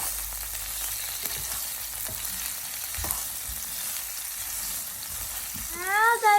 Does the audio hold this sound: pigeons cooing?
no